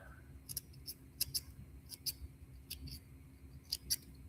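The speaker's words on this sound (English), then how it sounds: "the last thing you do is just trim out the knee joints." Small scissors snip at the knee joints of a foam hopper leg during fly tying, sharp little clicks coming in pairs and singles at irregular intervals, close up and quiet over a faint hum.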